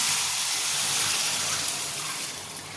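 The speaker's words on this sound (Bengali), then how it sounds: "এবার আমি এর মধ্যে গরম জল দিয়ে দিচ্ছি" Hot water poured into a pan of curry, a loud, close, hissing gush that runs steadily and then eases off toward the end, with no talking.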